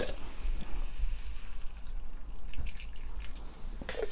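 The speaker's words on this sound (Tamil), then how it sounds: "இப்போ கொஞ்சோண்டு தண்ணி ஊற்றுறேன்." A small splash of water is poured over vegetables cooking in a pan for a vegetable kadai gravy, a faint, soft dripping and trickling against a steady kitchen background hum.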